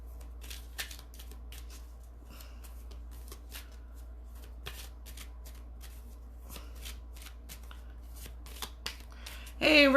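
Tarot cards shuffled by hand before a card pull, giving repeated crisp riffling flutters and snaps over a steady low hum, with a brief louder rustle right at the end.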